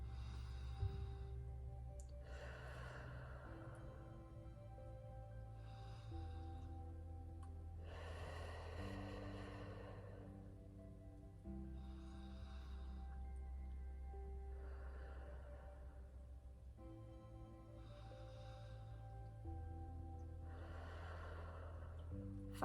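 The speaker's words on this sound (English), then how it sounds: "So we're going to do about 10 deep breaths." Slow, deep breaths during a self-guided lymphatic drainage routine, each long inhale and exhale audible and close, repeating in an even rhythm with steady low background hum and no talking.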